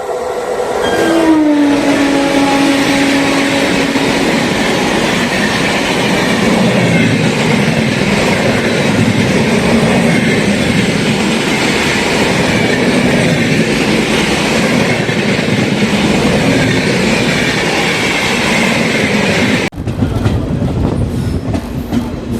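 A passenger train from Erode to Palakkad rolls along the tracks with a loud, continuous rumble and rattle, a horn-like tone sounding briefly near the start.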